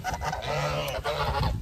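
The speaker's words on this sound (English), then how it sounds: "I can't talk when the geese are talking, apparently." Several geese honk loudly and continuously close by, their overlapping calls forming a dense, raucous chorus.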